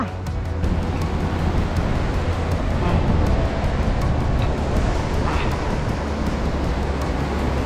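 Sea waves break at the foot of Suliya, a vertical sea stack off the Maharashtra coast, as a loud, steady roar of surf that carries on without a break.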